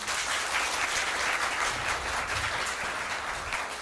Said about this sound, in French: Allez, on les applaudit encore une fois.